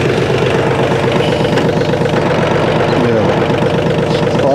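A Mahindra OJA 2127 tractor engine running at a steady idle, a loud, close, even diesel chug with a constant low throbbing pulse.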